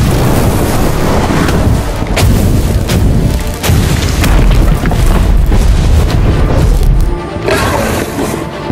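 An Incendio fire spell cast in the game Harry Potter: Magic Awaken, a dense run of loud booming blasts and crackling bursts that repeat steadily over a continuous roar of battle effects.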